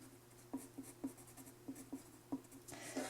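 Pencil or crayon coloring on paper for texture rendering, a steady run of light, rhythmic scratchy strokes, close and quiet, ending in a brief brushing rub.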